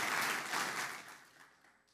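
A church congregation applauds during a worship service, a dense burst of clapping that fades away over two seconds.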